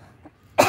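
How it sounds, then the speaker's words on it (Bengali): After a short quiet lead-in, a single sharp, close cough cuts in abruptly and fills the end of the brief moment. "কাশিটা শেষ করে দিচ্ছে আমাকে।"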